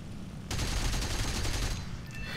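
An Fw 190 F-8 fires its 30mm cannon in War Thunder, a sudden loud burst of rapid, continuous gunfire lasting nearly two seconds before tapering off.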